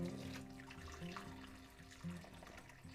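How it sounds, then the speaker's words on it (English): A pot of cooked sweet potatoes is drained into a kitchen sink, with water pouring and splashing steadily down the drain for a few seconds and occasional louder gushes. "I am picking up the pot in which I have sweet potatoes and drain these in the sink here"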